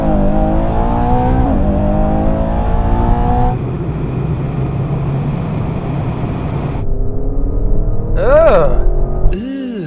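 SUVs, an Aston Martin and a Ferrari among them, accelerating hard in a drag race, with loud close engine revving that climbs through several gear shifts, then distant high whines near the end and a voice talking over it.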